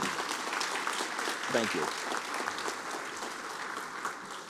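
An audience at a fire rescue awards ceremony claps steadily, a dense, continuous round of applause held throughout, with a voice briefly speaking over it.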